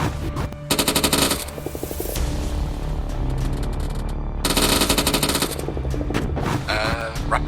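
Machine gun rapid fire in the Arma 3 military simulation game, two long loud bursts of fast automatic shots, one early and one later, with steadier rumbling and scattered shots between them.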